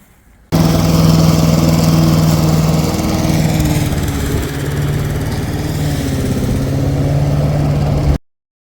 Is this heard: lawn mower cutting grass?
yes